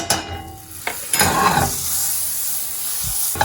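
A tablespoon of butter hits a pan preheated on medium heat, bursting into a loud sizzle after a clatter, then settling into a steady hiss with a brief knock near the end.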